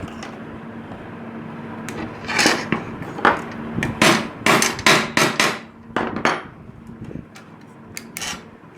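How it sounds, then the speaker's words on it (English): Small hammer tapping a carriage part tight on a DIY hot wire CNC build, a few scattered taps followed by a quick run of sharp metallic blows, close over a low steady hum. "Make sure it is fully tightened. Use a small hammer."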